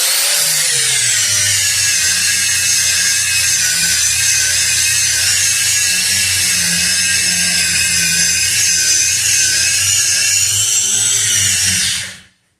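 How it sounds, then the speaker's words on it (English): An angle grinder runs back and forth on galvanized steel, its disc treated with Drill Wax, making a loud, close, sustained high-pitched whine with a low motor hum beneath, then cutting off abruptly near the end. "running the grinder back and forth on this galv, it starts to load up"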